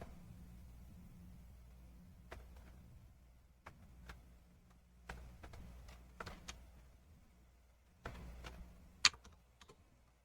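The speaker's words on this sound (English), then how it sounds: "We're going to type in our second texture." Someone types on a computer keyboard in a quiet room, entering a texture name. The keystrokes are faint and sparse, arriving in short irregular bursts with pauses between them.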